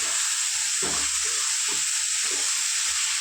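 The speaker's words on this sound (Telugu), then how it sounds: "మన చిక్కుడుకాయ మొత్తం ఇట్లా వచ్చే వరకు ఫ్రై చేసుకోవాలి" Broad bean pods sizzling and frying in a pan, a steady bright hiss with a few soft thumps of stirring, close and alone with no talk.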